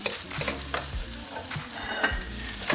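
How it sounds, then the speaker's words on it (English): Shrimp fried rice with sweet peas deep frying in a hot pan over lowered heat, a steady close sizzle broken by several scraping stirs of the spatula, with no voices. "and let it deep fry a little bit"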